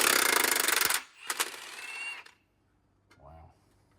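A Milwaukee power tool hammers loudly in a burst lasting about a second, then fires briefly again while removing a part from a 1998 Peterbilt 379 truck, followed by a faint metallic clunk.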